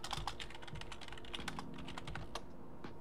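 Rapid computer keyboard typing clatters steadily and close by, dense irregular keystrokes with a few louder clacks, alone with no voices.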